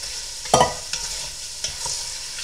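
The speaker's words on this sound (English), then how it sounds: "I'm going to put in the onion and the garlic." Onion and garlic fry with tofu in a pan for ramen: a close, steady sizzle with a loud scrape or clatter early on and a few lighter stirring taps after, with no talking.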